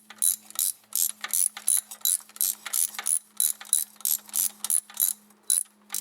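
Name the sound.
ratchet tightening thermostat housing bolts on a 2002 Dodge Dakota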